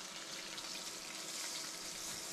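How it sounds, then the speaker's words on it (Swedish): Eggs frying on an induction hob at a family campsite, a steady, dense sizzle and crackle filling the whole moment without pause or talk. "vi steker ägg och grejer"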